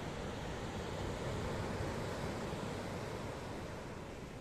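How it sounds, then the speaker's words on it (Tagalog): Moderate ocean waves break along a busy swimming beach partly sheltered by a mountain, producing a steady, broadband wash of surf that holds constant throughout with no speech. "Katamtaman lamang po ang alon po dito sa part po na ito."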